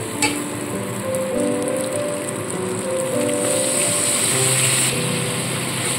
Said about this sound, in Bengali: এইভাবে অল্প অল্প জল দিয়ে মশলাটাকে ভালো মতো করে কষিয়ে নিতে হবে।